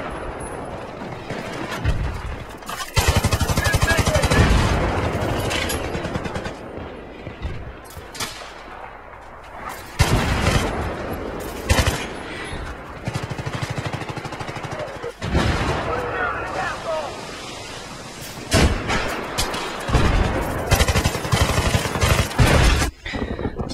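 Battlefield 3 team deathmatch on Noshahr Canals: repeated loud gunshots and heavy booming mortar-like blasts arrive in clusters over the whole stretch, close and harsh, with a voice briefly heard between them.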